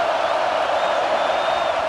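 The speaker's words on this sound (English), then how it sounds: "The Buckeye crowd alive on 3rd down." Buckeye stadium crowd roaring on third down in EA Sports College Football 26, a dense sustained cheer with scattered whoops, loud and steady across the short span.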